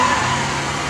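A BMW drift car's engine roars loud and close in a brief, continuous burst at a drift event.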